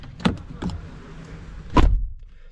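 Two soft thumps followed by a heavier, sharper thud with a click as the door of a 2023 Jeep Grand Cherokee shuts nearby, then quiet.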